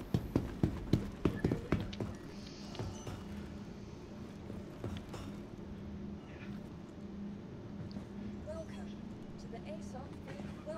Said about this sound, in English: Footsteps are going conk, conk, conk, conk, conk.